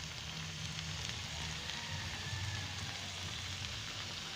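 Onions sizzle and fry in a pan with a soft steady crackle as tomatoes are added, a quiet continuous frying hiss with faint stirring.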